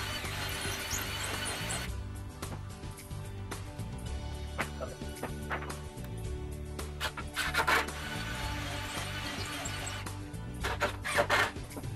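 Wood filler on rustic coffee table legs is sanded by hand in steady back-and-forth rubbing strokes, close and continuous, with a few sharper scrapes toward the end.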